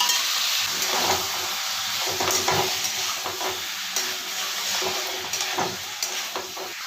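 Boiled taro, potato and elephant apple (ou tenga) fry in a pan with a steady hissing sizzle, broken by repeated stirring scrapes and knocks against the pan, close and without talk.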